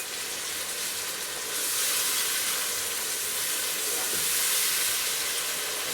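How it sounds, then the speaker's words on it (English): Yogurt sizzles in a hot pan for mushroom pilaf, a steady, bright hiss that swells louder partway through and holds, with no voices. "Now I'm going to put in some yogurt."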